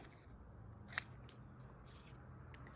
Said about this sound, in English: we're going to cut it into 4 pieces